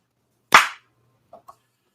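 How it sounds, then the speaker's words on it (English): A single sharp, loud clap rings out once, close and crisp with a quick decay, followed by two faint small taps in otherwise near silence. "You're actually going to hear us clap."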